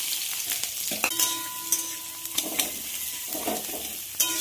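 Chopped onion goes into oil where mustard seeds and a dried red chilli are frying, producing a gentle sizzle with scattered clicks and scrapes of a spatula against the pan.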